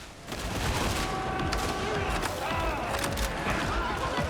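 Lasgun fire in the video game Darktide, a dense, continuous barrage of rapid shots with booming impacts and battle noise throughout, fairly loud with faint voices mixed in.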